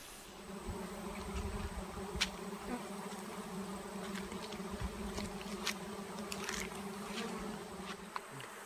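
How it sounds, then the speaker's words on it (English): A honeybee swarm drones steadily around a newly set-up hive, a dense, continuous buzz of many bees with occasional louder bees passing close by, heard on its own without talk. "So here's the swarm we just came home to."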